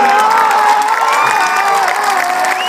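Crowd at a Radio Italia Live concert in Piazza Duomo, Milan, cheering and applauding steadily, a dense roar of voices and clapping that stays loud and continuous throughout.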